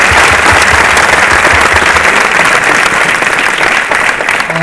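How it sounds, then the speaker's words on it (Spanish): A cinema audience at a masterclass in Argentina breaks into loud, sustained applause, a dense wash of clapping filling the room close and full without letup. "Gran aplauso."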